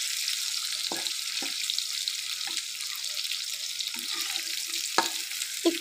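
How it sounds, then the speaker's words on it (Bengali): Potatoes frying in hot oil give a steady, bright hiss throughout, with a few soft knocks and scrapes from the pan underneath, close and without voices. "এখন আমি আলুগুলো ভেজে নিচ্ছি।"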